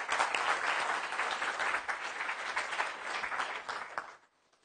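An indoor audience applauds to welcome a lecture speaker, with dense steady clapping that holds for about four seconds and then stops abruptly.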